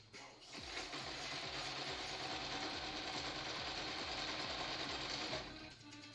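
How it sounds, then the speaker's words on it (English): A sewing machine runs continuously while stitching fursuit fabric, its rapid mechanical chatter and rhythmic thumping steady and close for several seconds before stopping, with no one talking. "You see all my sew machines bouncing up and down?"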